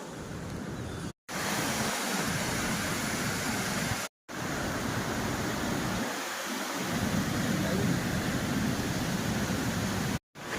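Natural waterfall in Ganderbal near Sonamarg, water rushing down from above like a channel, a loud, steady broadband roar close by, briefly cut out a few times, with no talk.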